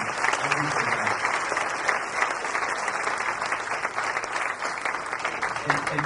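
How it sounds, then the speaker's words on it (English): Sustained applause fills a room at a chamber of commerce awards dinner, dense and even clapping from many guests, with faint voices mixed underneath. "A big round of applause."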